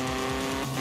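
Engine drone of a car in Forza Horizon 4 during a police chase, steady and loud throughout with a constant tonal hum and a slight tire-squeal edge, no talking.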